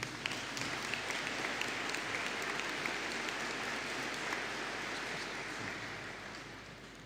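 Graduation ceremony crowd applauding a group of computing diploma graduates in a large hall, a broad, even wash of many hands that sounds almost like rain, sustained for several seconds and fading slightly at the end.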